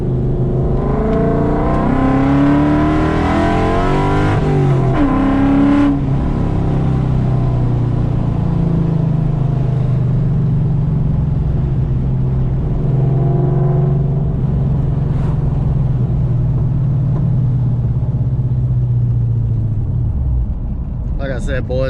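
Coyote-swapped Fox-body Mustang under wide open throttle, its engine note rising and sweeping up through the gears in loud, sustained pulls before dropping off near the end, with a voice talking over the exhaust roar.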